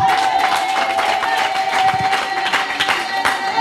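Seminar audience clapping and cheering for Mzee Swai at a gathering in Muheza, a loud, continuous round of many hands applauding with scattered voices mixed in.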